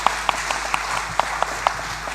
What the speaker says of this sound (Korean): 네, 박수 한번 칠까요?